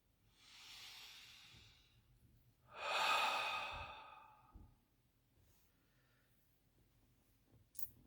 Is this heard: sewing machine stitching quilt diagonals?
no